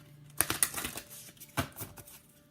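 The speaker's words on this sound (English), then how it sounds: "and another shuffle." A tarot card deck being shuffled by hand, with several quick papery riffles and snaps in short bursts, close and fairly quiet.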